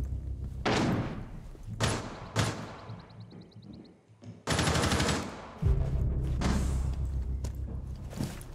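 Gunfire in Rainbow Six Siege: several loud, close bursts of rapid automatic shots with sharp attacks, separated by short pauses, then a longer sustained stretch of fire over a low rumble.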